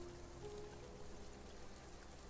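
Steady, faint rain patters in the video game Gloomy Eyes, a soft continuous hiss of drops with a faint tonal hum underneath and no speech.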